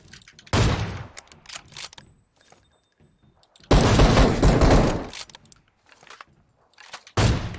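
Gunfire in a multiplayer shooter set around a bridge ambush, with loud bursts of rapid automatic shots in three separated volleys, the middle one longest, with quieter gaps between and no talk over them.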